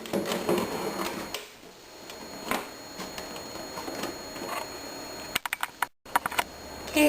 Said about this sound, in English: So I'm just going to cut around all the lines that I made.